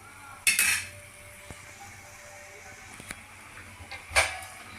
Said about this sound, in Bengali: এখন আমি এটা ঢাকা দিয়ে দেবো।